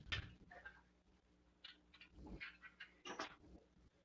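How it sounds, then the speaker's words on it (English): A dog in a workshop panting and whimpering, faint and fairly close, with short breathy pants and a few soft whines spread across the stretch and no talking over it. "Pardon the dog."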